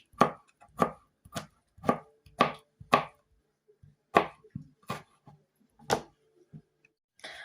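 Sharp, regular knife chops on a cutting board slicing cucumbers into long strips, about a dozen crisp strokes in a steady rhythm with brief pauses, close and clear.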